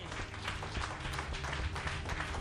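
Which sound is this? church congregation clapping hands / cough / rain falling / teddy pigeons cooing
church congregation clapping hands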